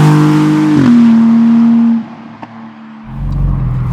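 A 1069 HP Porsche 911 Turbo S tuned by FPM accelerating hard, its loud close engine tone holding steady and then dropping away into a lower rumble as it settles, with no voices.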